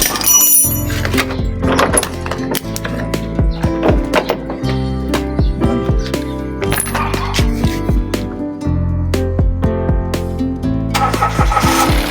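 A Mitsubishi Mirage G4 engine cranks and starts after a spark plug change, heard as repeated close mechanical clicks and knocks over a steady low running rumble that continues throughout.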